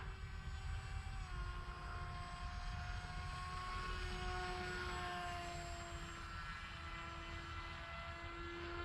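A Dynam Hawksky V2 RC plane flies overhead, its electric motor and propeller whining as a steady pitched drone that shifts slightly in tone, faint and distant with no voices.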